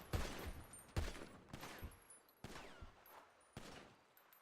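A volley of gunfire at a range drill in a roleplay video game, with about five loud sharp shots spaced roughly a second apart, each followed by a short echoing tail, with no talk.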